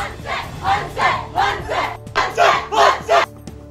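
MNS party workers celebrate inside a police station, a close crowd shouting slogans in loud rhythmic bursts, roughly six chanted calls in quick succession.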